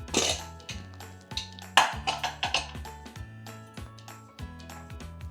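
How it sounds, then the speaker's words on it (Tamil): Pressure cooker lid opened after cooking rice khichadi, with metallic clinks and knocks of the lid and pot rattling in a quick irregular series, close by and without speech. "குக்கர் திறக்கிறேன்"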